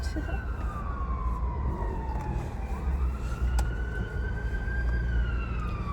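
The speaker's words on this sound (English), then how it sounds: "you will occasionally hear sirens" A wailing emergency siren sweeps up and down over steady traffic rumble, moderately distant and continuous throughout.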